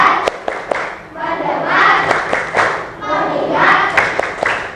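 A class of children claps in unison during a focus chant, with several crisp group claps scattered between loud rhythmic chanting voices close by.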